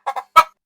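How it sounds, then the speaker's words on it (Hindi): A cartoon village rooster lets out a few short, loud calls: two quick clucking bursts, then a stronger squawk after a brief pause, all in under a second with no talk around it. "मुर्गा जोर से बांक देता है।"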